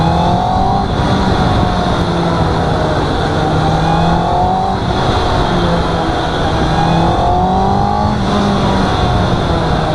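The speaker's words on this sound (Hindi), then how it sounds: "आपको सुना साउंड, तो ऐसी साउंड करती है ये हायर RPM पे।" A 2021 Honda CB650R BS6 inline-four motorcycle engine revs at high RPM, a loud, continuous, buzzing exhaust note held steady up close with slight rises and dips in pitch throughout.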